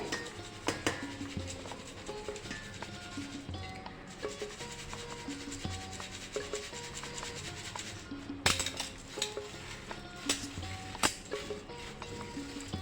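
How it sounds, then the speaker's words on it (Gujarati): Ground churma flour being worked through a sieve makes a continuous soft rubbing and rasping, close and quiet, dotted with small metallic clinks and taps. "આવી રીતના ચાળી લેવાના છે"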